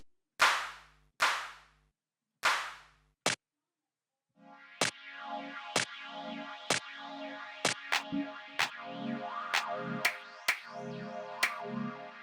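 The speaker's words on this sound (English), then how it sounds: "Let's get a clap in here" Clap sample in a deep techno track: four sharp dry claps ring out alone at first, then recur as crisp hits over a steady pulsing bassline and synth pads.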